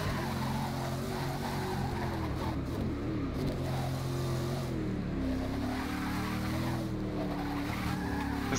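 Corvette C7R race car built in 2013, driven in Forza Motorsport 6, its engine droning steadily with shifting pitch while tires squeal and skid through corners, loud and continuous with no talk.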